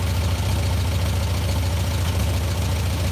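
An old tractor engine that once belonged to a grandfather idles in cold weather, a steady low chugging rumble with an even pulse, close and alone.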